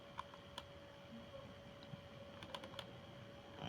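Light, quick computer mouse clicks and keyboard-like taps sound sparsely over a steady background hum, faint and close, with a small cluster of clicks late on.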